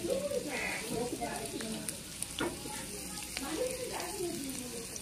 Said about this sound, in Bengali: তারপরে কড়াইতে তেল দিয়ে প্রথমে কাঁচা লঙ্কা কুচি দিয়ে